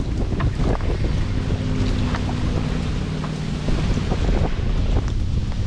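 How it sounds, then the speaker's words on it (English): Strong gale wind on open water buffets the microphone from a boat, a constant rumbling roar with gusts and faint knocks and splashes beneath. "That wind out here today is blowing an absolute gale"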